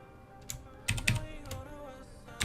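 A short burst of clicks from a computer keyboard, a few quick keystrokes clustered together, close and fairly quiet over a low background hum.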